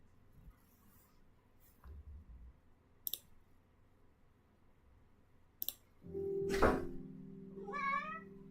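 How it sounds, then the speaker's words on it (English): An indoor house cat, startled awake, gives a sudden thump and rustle, then one short, close, rising meow after a few faint clicks in a quiet room. "Cat just jumped out his sleep. Scared himself."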